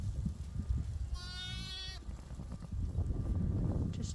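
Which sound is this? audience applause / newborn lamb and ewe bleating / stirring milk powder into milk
newborn lamb and ewe bleating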